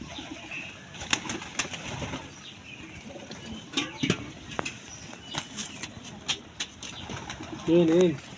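Pigeons in a cage, one newly arrived, coo softly amid rustling and light fluttering, with a clearer coo near the end and faint voices in the background.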